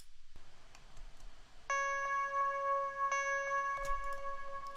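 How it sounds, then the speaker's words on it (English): Bright bell tones from a beat made in Logic Pro X ring out in a steady pattern over a quiet beat, starting after a soft low intro and sustaining with clear, shimmering pitches. "I added some bells to complement the main melody."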